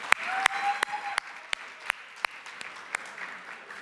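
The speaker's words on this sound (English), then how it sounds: "Maybe some applause for yourselves, that always helps." Sparse applause from a conference audience at an Indigenous leadership event, a few distinct claps standing out over a soft background of scattered hands and a faint tone.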